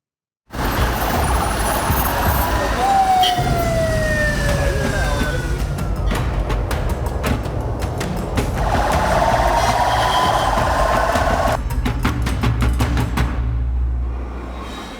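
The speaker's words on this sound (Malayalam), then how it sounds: "ഗതാഗതക്കുരുക്കിൽ വീർപ്പ് മുട്ടി ആമ്പല്ലൂർ" Heavy road traffic is stuck in a jam between Amballur and the Paliyekkara toll plaza in Kerala. Trucks and other vehicles rumble continuously, with siren wails, air-brake hisses and bursts of repeated horn honks close by.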